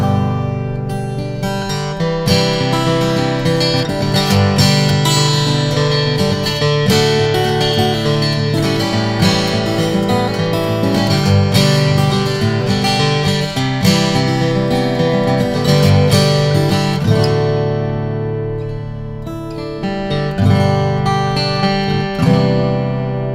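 A heavily built Midwood acoustic guitar played alone, dense strummed and picked chords ringing close and full for over twenty seconds, with a brief dip near the end before the playing resumes.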